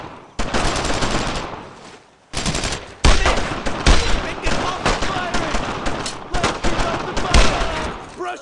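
Heavy WWII gunfire in Brothers in Arms, Normandy 1944: loud, near bursts of machine-gun and rifle fire rattle almost continuously with brief pauses, while soldiers shout over the shooting.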